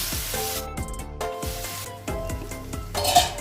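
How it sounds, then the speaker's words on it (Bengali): Fried potato and pointed gourd being sautéed with spices in a pan: repeated metal spoon scrapes and clinks against the pan over a light sizzle, close and fairly loud, no voices. "এর সাথে আবার আমি ভালো করে কিছুক্ষণ কষিয়ে নেব"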